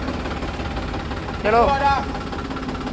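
A 5104 tractor engine runs at a steady idle in the background while someone speaks briefly over its low rumble.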